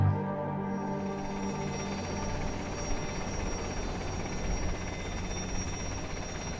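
A rescue helicopter hovers in windy weather, its rotor and engine droning steadily at a moderate distance with a buzzing, beating tone and no speech over it.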